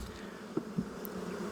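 Honey bees hum steadily inside an opened hive during an inspection, a soft, close, continuous drone with a couple of faint knocks and no talking.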